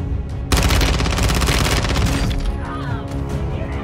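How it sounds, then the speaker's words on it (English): Shotgun fire in the Warzone video game: a loud, dense burst of shots erupts suddenly, rattles on for about two seconds, then tails off into quieter game noise. "And then we have a shotgun."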